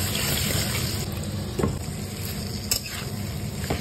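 Potatoes and jackfruit fry in hot oil in a wok seasoned with cumin and asafoetida, giving a steady, close sizzle with soft stirring scrapes and a few light clinks.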